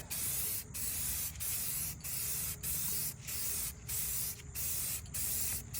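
Spray paint hissing from a can onto factory wheel rims in light coats, about nine even bursts in a steady back-and-forth rhythm, each cut by a short pause.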